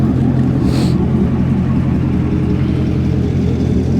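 A 2017 Corvette Grand Sport 3LT idles with a steady, deep exhaust rumble, loud and close, holding an even low burble throughout with no talk.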